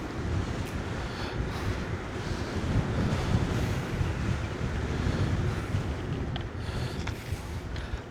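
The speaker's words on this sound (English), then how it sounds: "It's quite a windy afternoon actually." Strong wind buffets the microphone throughout on a scooter ride through the suburbs of Camillo and Champion Lakes near Armadale, a steady loud low roar with no speech.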